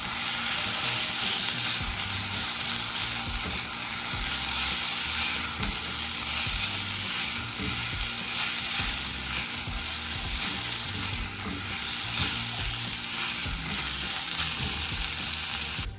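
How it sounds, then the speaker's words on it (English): Rinsed rice sautes in a hot pan with a loud, continuous, dense sizzle that holds steady from start to finish, close up and with no talking. "I'm gonna add my rinsed rice. And we're just gonna let this kind of saute for just a couple of minutes"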